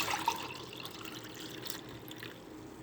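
Amla (gooseberry) juice poured at home, a soft, steady liquid trickle heard close up and fairly quiet, continuing for a few seconds with no one speaking.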